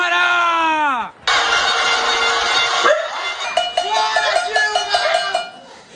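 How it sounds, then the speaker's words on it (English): Pots clang and bang in a dense, metallic din during a panelazo protest in São Paulo, with a shouted voice partway through and repeated ringing strikes over a noisy crowd. "People were banging their pots,"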